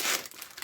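A plastic bag crinkles as a 1991 Hasegawa 1/48 scale P-51D Mustang model kit is opened, a short close burst of crisp rustling followed by a few lighter crackles.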